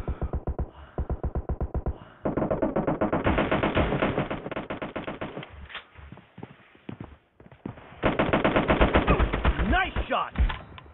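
Automatic gunfire in a PUBG team deathmatch, loud rapid bursts of shots in quick rhythmic volleys separated by short gaps, close and dominant.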